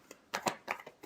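Tarot cards being shuffled in a few quick, close riffling bursts, soft papery flutters with short pauses between them, no talking.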